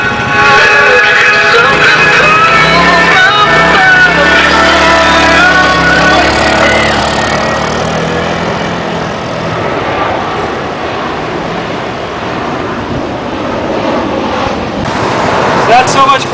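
A Qlink Commuter 250cc scooter, a Honda Helix clone fitted with performance parts, rides on a test drive, its loud engine droning and shifting in pitch close up along with wind rush.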